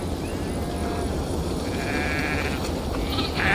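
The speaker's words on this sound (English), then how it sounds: "Feed the sheep and see what." Sheep bleating in the Viking-era game Assassin's Creed Valhalla, several nearby bleats over a steady ambient background, without talk.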